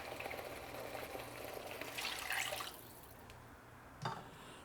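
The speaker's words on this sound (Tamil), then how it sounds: "இப்போ நாம் இதில் வாட்டர் சேர்த்துக்கலாம்" Water pours into a pan of tomato masala for an ennai kathirikkai (brinjal) kulambu, making a faint, close splashing fill that fades after a few seconds, followed by a soft drip or clink.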